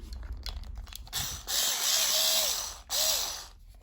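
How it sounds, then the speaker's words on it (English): A handheld electric screwdriver whirs up in two short bursts, the second briefly after the first, close by in a quiet garage, with some handling clatter before it starts. "This here is an electric driver."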